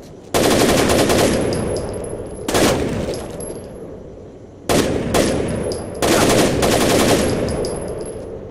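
Close, loud automatic gunfire in the video game Rainbow Six Vegas 2 Terrorist Hunt, four sustained bursts separated by short pauses, each followed by metallic shell-casing clinks.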